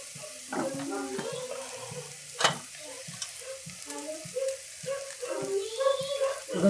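Masala for vada pav sautéing in a pan, a soft steady sizzle broken by irregular scraping and stirring knocks, with a sharp clink midway and a voice talking now and then.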